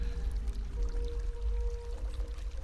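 Water flowing in the horror video game Habromania, a continuous close pouring, gushing stream with a low rumble and a faint steady tone running through it, no talk.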